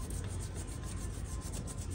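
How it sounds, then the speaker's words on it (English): Steady abrasive scuffing across an aluminum gearbox housing surface during a Walker mower gearbox swap, a continuous dense rasping rub with slight rhythmic strokes, close and loud with no talking. "I'm going to scuff this side too. And remember, this is aluminum."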